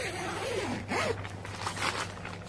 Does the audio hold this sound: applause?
no